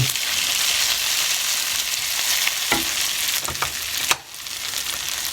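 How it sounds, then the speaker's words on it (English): Onions caramelize in a pan, producing a continuous close sizzle and crackle with a few sharp stirring knocks, the frying dropping briefly quieter near the end. No one speaks. "The caramelized onions are looking pretty good."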